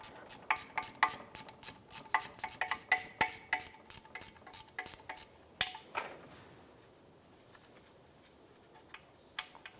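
Rapid, quiet metallic clicking of a 16 mm ratchet wrench working bolts on a 1998-2010 Volkswagen Beetle during oil pan removal, a run of quick clicks that thins out into sparse ticks.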